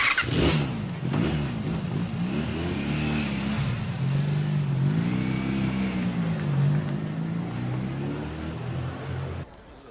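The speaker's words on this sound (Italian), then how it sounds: "Giovanni, ti devi accendere la moto." A motorcycle engine catches and revs up and down, the pitch rising and falling in several swells over a steady idle before cutting off.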